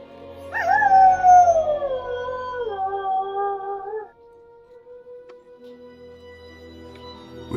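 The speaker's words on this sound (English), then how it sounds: "That howling sound has been spooking the horses and making the men uneasy." A beast howling in the Lord of the Rings Online game: one long, wavering canine howl rises and slowly falls for a few seconds, loud and close, then gives way to quiet ambient tones.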